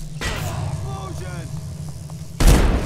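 Explosion in the video game Dishonored, a sudden loud burst near the end after a stretch of game ambience and chatter, with voices talking beforehand.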